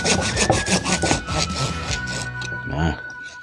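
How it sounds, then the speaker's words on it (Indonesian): A hand saw cutting through a branch of a serut bonsai, a rapid rhythmic series of rasping back-and-forth strokes, close and fairly loud, easing off near the end. "Jadi ini akan saya potong pakai gergaji."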